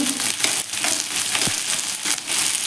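Okra frying in a pan alongside onion for a smoky masala bhindi, a steady close sizzle and crackle with occasional stirring clinks, no talking.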